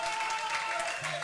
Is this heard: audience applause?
yes